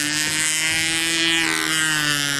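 A model airplane engine at a control-line fly-in runs at high revs, a steady loud buzzing drone that shifts pitch slightly as it turns up, heard continuously without talk.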